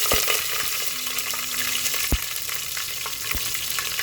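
Garlic and mustard seeds sizzle in hot frying oil with a steady, bright hiss broken by a few sharp pops and crackles close by.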